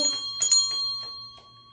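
A hand bell is rung briefly, a few bright metallic dings with lingering ring at close range, fading over under two seconds, with no talk.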